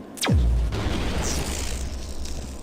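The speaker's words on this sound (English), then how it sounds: "Any more invisible robots want to get blasted by my super EMP rifle?" A super EMP rifle blast in System Shock 2 fires with a sharp, loud boom that sweeps down into a deep rumble, then trails off into a sustained low roar and hiss, with no talk.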